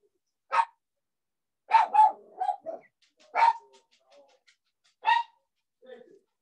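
An old dog barks in several short, sharp, separate bursts with quiet gaps between them, loud and close indoors, some barks coming in quick doubles.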